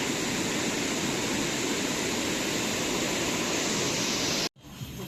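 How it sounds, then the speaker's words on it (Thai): Steady, close, loud rushing roar of a waterfall at Pak Chong, constant and unbroken until it cuts off abruptly near the end. "เสียงน้ำตก บุ่มบุ่มบุ่ม"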